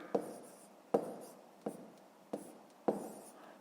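Pen or chalk strokes tap and scratch out numbers during a fifth-grade math lesson, five sharp close knocks each trailing into a short scrape, evenly spaced in a steady rhythm, with no voice.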